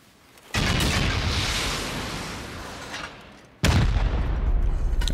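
Rockets hit base walls in a survival game, each impact a sudden heavy boom. Two blasts land a few seconds apart, the first followed by a long rumbling decay and the second sharp and loud near the end.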